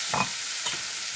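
Lemon juice stirred into rice in a pan over a medium flame for Tamil lemon rice, with two short, soft scraping stir sounds over a faint background sizzle.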